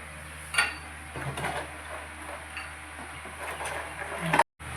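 Cups and utensils clinking at home while tea is made, a few scattered light chinks and knocks against a low household hum, with a louder clatter near the end.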